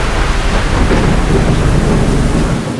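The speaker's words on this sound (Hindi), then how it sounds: "बारिश रुकने का नाम ही नहीं ले रही है" Heavy monsoon rain pours steadily as a loud, dense, continuous roar of water, with no voices over it.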